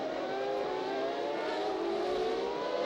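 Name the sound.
Formula One cars racing at the 1999 Grand Prix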